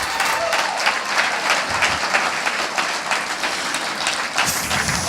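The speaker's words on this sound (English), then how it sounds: "Let's give Alex a big round of applause." Audience applauding after a startup pitch at a pitch event: steady, dense clapping sustained throughout at a fairly close, even level.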